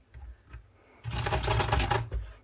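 Keys pressed on a dusty, uncleaned 1962 Olympia SF manual typewriter, a few soft clicks followed by a dense burst of rapid mechanical clatter, close up, with no talk.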